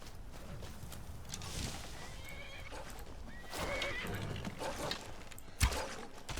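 In the video game Skyrim, a horse gives loud whinnying neighs over a steady ambient bed, with clip-clop hoofbeats and a sharp thump near the end.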